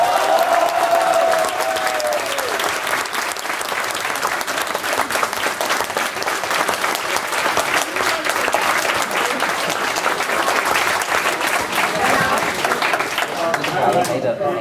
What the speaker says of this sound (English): let's try as accurately as possible to give a round of applause